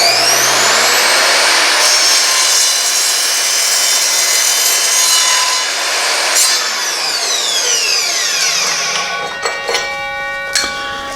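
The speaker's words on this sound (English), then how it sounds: "cut through that copper like butter" An Evolution R255SMS sliding mitre saw cutting 1/2 inch copper pipe: a loud, continuous high-pitched ringing whine as the blade spins and bites through, fading with metallic clinks near the end.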